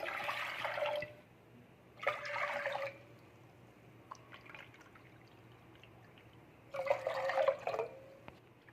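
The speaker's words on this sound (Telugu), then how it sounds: "ఇప్పుడు ఇందులోకి మనము 6 కప్స్ వాటర్ తీసుకోవాలి." Water is poured into a pot to make a rice flour batter, in three separate splashy pours of about a second each, with quiet drips and gaps between them.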